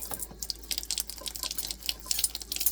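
Tap water runs into a tablespoon with a close, uneven splashing and trickling that lasts throughout, with no voices.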